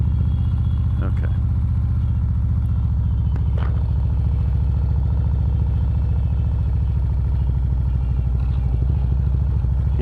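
A 2013 Harley Davidson Road King CVO motorcycle being ridden, with a loud, steady, throbbing low engine rumble that continues throughout, plus a few brief clicks and clatters.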